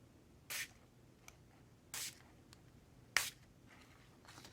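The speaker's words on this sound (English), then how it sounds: "get the sparkle spray, and then we're just going to spray it on here" Sparkle spray misted onto a paper craft in three short, separate bursts, each a soft, close hiss about a second apart, with small quiet clicks in between.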